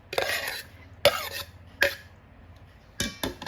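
Fried chicken is tossed by hand with sliced shallots and cilantro in a bowl for a Thai chicken salad, giving a few separate soft scraping and clinking strokes with quiet pauses between them.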